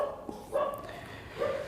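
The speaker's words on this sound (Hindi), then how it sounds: "अब कुत्ते इतने भौंक रहे हैं" Dogs barking at night around 1 a.m., a few faint, distant yelps and barks with quiet gaps between them.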